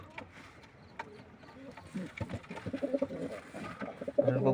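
Racing pigeons in a loft cooing softly, low murmuring calls building in density toward the end, fairly close, with faint voices in the background.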